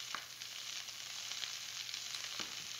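Ginger chicken pieces, salted and peppered, frying in a pan with a steady bright sizzle, broken by a few soft crackles and pops, quiet and close with no voices.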